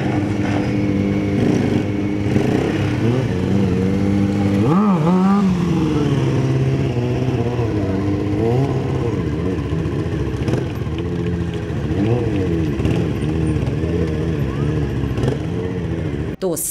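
Motorcycle engines rev and idle at a bike festival stunt show in Brest, a busy mix of rising and falling engine notes at moderate distance, with a voice speaking over them.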